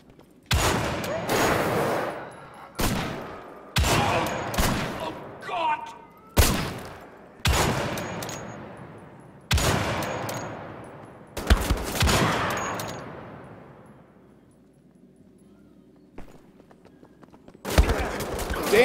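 Gunfire in the World War II shooter Wolfenstein: The Old Blood, loud bursts of automatic shots and single blasts in rapid clusters with ringing decay, broken by a quieter lull before more shooting.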